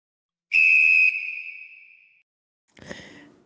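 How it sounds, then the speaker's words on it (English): Sharp whistle blast opening a Dallas sports podcast, one loud shrill tone that tails off, followed by a second shorter, breathier whistle after a pause. "We'll talk about it after the whistle."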